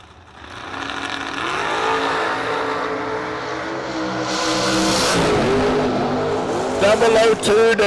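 Roadster drag racing cars launch down the track, their engines swelling from a low rumble into a loud, sustained roar that builds steadily, with a voice speaking over the noise.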